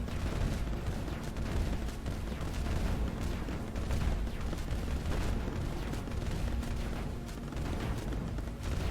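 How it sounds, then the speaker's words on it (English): Long-range missile fire and impacts in the Mindustry game rumble steadily, a dense, continuous barrage of booms and crackles at moderate loudness with no clear pauses. "That was the long-range missile."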